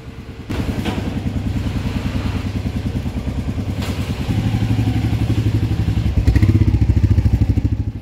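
A motorcycle engine catches and runs with a rapid, throbbing putter that holds steady and then rises slightly as it pulls away, loud and close, with a few clunks over the rumble.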